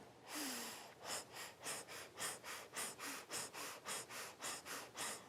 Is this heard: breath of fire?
yes